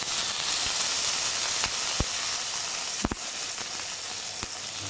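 Spring onions sauté in a pan with garlic, making a steady close sizzle and hiss, broken by a few sharp clicks and taps of a spatula against the pan.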